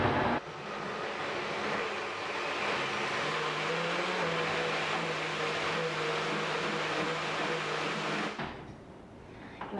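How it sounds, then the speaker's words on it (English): A high-speed blender on its low setting blending homemade salsa, a steady whirring motor drone that runs loud and unbroken for about eight seconds before cutting off. "If you have a high-speed blender, you want to start with this on low."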